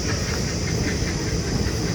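A train passes close by, a dense continuous roar with hiss and faint rhythmic clatter, loud and steady throughout.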